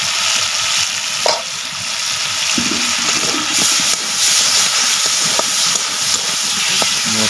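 Masala spices fry in a pan over a village cooking fire in Odisha, a loud, steady close sizzle and hiss that runs the whole time with a few faint knocks of stirring and no voices.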